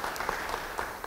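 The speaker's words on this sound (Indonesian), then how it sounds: "Beri tepuk tangan bagi dia." Brief, quiet applause from a church congregation, a soft patter of scattered clapping lasting about a second.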